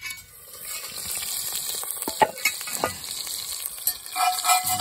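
Food cooking in a Dutch oven outdoors, a soft crackling sizzle with scattered metallic clinks and scrapes, moderately close and growing busier toward the end.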